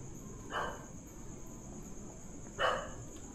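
Dogs barking at night in the dark outdoors, two short distant barks about two seconds apart, faint over a steady chorus of crickets and insects.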